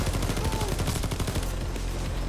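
The Queen's Wrath L85 assault rifle fires in Payday 2 as rapid automatic bursts of loud, dense shots, a steady stream of gunfire that tapers off near the end.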